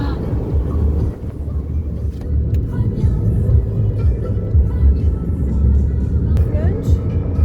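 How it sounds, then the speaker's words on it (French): A steady low engine rumble and road noise from inside a car driving around Aubagne, France, continuous throughout with no clear talking. "On fait un tour de voiture."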